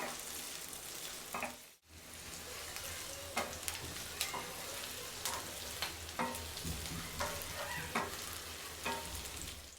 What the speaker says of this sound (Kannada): ಆ್ಯಡ್ ಮಾಡಿಕೊಂಡು ಒಂದು 3 ಮಿನಿಟ್ಸು ಸಾಟೆ ಮಾಡ್ಕೊಳ್ಳಿ. ಅದನ್ನು ಫ್ರೈ ಮಾಡ್ಕೊಳ್ಳಿ.